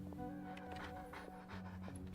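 Swuff, a dog in the video game Genshin Impact, pants steadily in quick soft breaths over a low background hum, moderately close and without speech.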